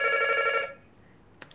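A telephone rings once with a bright, sustained electronic tone that cuts off abruptly, followed by near silence and a soft click.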